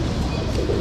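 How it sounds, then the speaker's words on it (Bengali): A silver pigeon coos at a pigeon farm in Dhaka Cantonment, a low continuous murmur close by against a steady background hum. "এই যে একটা সিলভার কবুতর"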